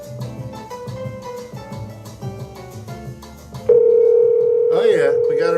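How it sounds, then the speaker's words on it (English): Ringback tone of an outgoing telephone call, a steady loud electronic tone starting partway through, preceded by background music and voices, with brief talk near the end. "Oh yeah, we got a ring."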